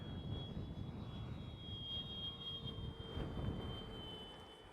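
An FMS 1400mm F4U Corsair RC warbird model makes a flyby, its motor and propeller giving a steady, moderately loud whine with a sustained high tone and low rumble that swells slightly as it passes.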